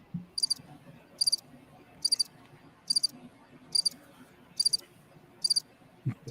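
Cricket chirps inserted as a comedic beat after a joke falls flat, sounding in seven short, evenly spaced bursts of high trills, with soft low room noise underneath.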